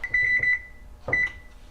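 A kitchen oven beeps as it is set to preheat to 425, a string of quick electronic beeps followed by a second shorter burst, with light kitchen clatter underneath.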